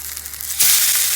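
A pan-seared cod fillet is flipped: quiet oil hiss suddenly erupts into a loud, bright sizzle that holds steady and close.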